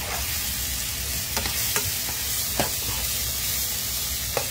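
Broccoli fries in a pan with oil, a steady close sizzle and hiss broken by several sharp stirring scrapes and clicks, with no talking.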